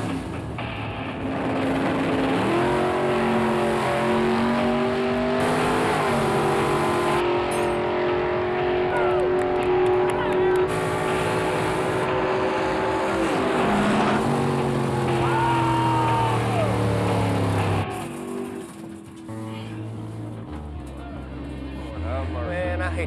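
A drag race car fired up and making a pass, its engine revving loudly with rising and falling pitch sweeps, mixed with voices, then cutting out near the end.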